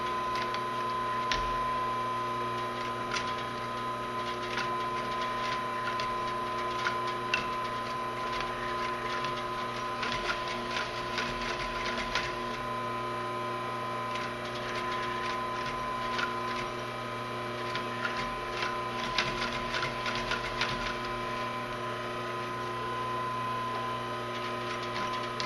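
A sewing machine stitches a leather tote bag close to the edge, its needle tapping in quick, quiet bursts of mechanical ticking over a low steady hum.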